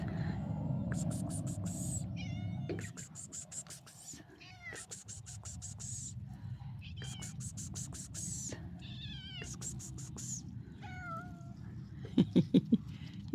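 A small kitten, a new stray being fed outdoors at a country cottage, meows repeatedly in short high cries through the whole stretch, close by, while a woman coaxes it with soft calling and kissing sounds.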